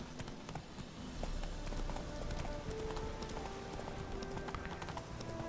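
A horse gallops in The Witcher 3 video game, its hooves beating a quick, even clip-clop rhythm that continues throughout at moderate volume.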